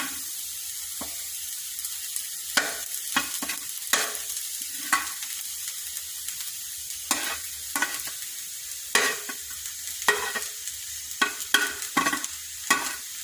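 Crumbled leftover idli tossed into a hot pan of masala for idli upma and stirred, a steady sizzle under repeated scraping spatula strokes, close and clear with no talking.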